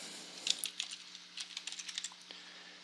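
Keystrokes on a computer keyboard during setup of a DB2 data connection in a software installer, a quick irregular run of light taps, close and faint, with no talk.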